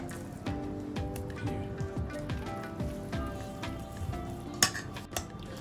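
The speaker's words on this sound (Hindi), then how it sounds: "और अब इसमें डालेंगे मेयोनीज और इसको अच्छी तरह से मिक्स कर देंगे" A spoon stirs mayonnaise into a sandwich filling with black pepper in a bowl, giving soft, wet, rhythmic squelches and scrapes with a couple of sharper clinks, close and steady, without talking.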